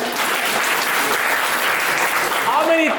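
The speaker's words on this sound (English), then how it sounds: "Round of applause" Audience applause at a live stand-up comedy show in Europe, a dense burst of clapping sustained for the whole stretch, with voices talking over it toward the end.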